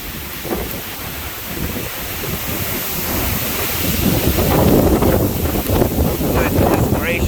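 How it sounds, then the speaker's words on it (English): Hurricane Ida winds roar at an estimated 90 mph, a dense, continuous buffeting rush that swells louder partway through, with heavy gusts battering the microphone. "Wind, I'm estimating 90 miles an hour."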